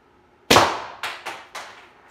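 Airgun fitted with an FSV regulator being fired in testing: one sharp loud crack followed by three further quick cracks, each trailing off quickly, with near silence around them.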